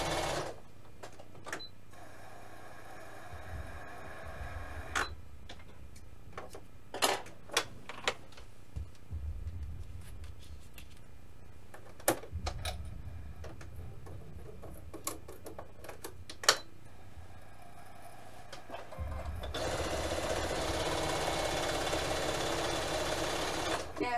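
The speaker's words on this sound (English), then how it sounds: "I don't like to actually quilt while I'm running the bobbins, while I'm making all the bobbin threads" A sewing machine at a home quilting setup hums and whirs while winding bobbin thread, with sharp clicks and taps between stretches of motor noise and a steady louder run near the end.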